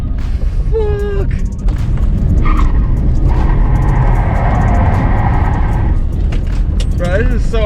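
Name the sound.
BMW 530i E34 car drifting, tires skidding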